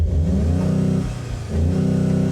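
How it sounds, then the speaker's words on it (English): A 2025 Volkswagen GTI hot hatch revs up from inside the cabin, with synthesized engine sound playing through the speakers. Two loud rising revs, separated by a brief dip, are heard up close with no talking. "it does sound better when you rev this car up from inside versus when you're revving it out from outside"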